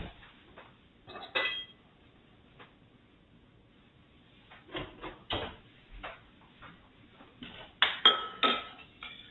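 A spoon clinks and scrapes against a pot while making a lamb, feta and lemon potato pie, a handful of light metallic taps scattered over quiet kitchen background, close and fairly soft.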